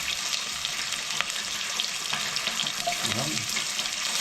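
Food fries in a pan in a home kitchen, giving a steady, close crackling sizzle throughout, with a few faint clinks and a brief spoken word partway through.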